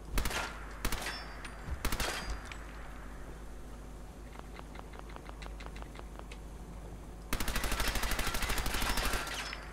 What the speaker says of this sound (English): I've just shot the crap out of it.